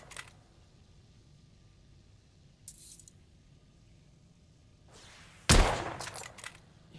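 Gunfire in the video game The Order 1886: quiet mechanical clicks and a brief rattle, then one loud, sharp shot with a ringing tail and a few trailing pops.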